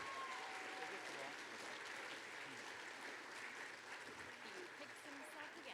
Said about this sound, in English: Let's give a round of applause for all those beautiful entries.